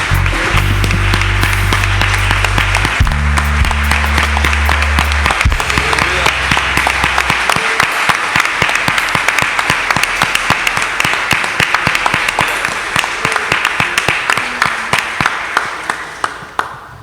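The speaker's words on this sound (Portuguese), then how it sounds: "Uma salva de palmas, Senhor." A church congregation at a Sunday evening service claps loudly, starting over a sustained keyboard chord that fades out, then continuing as dense, steady applause before thinning toward the end.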